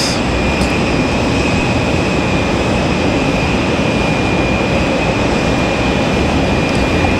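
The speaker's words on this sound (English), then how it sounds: "it looks like we got that 767 rolling to the runway" A Boeing 767 jet taxis toward the runway at Raleigh-Durham airport on a stormy evening, giving a loud, steady broadband roar with a constant high whine from start to finish.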